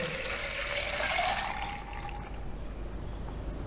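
Wheat vodka at 40 percent is poured from a bottle into a jar over vanilla and other ingredients for a homemade liqueur, a steady close liquid stream that slackens partway through, fairly quiet.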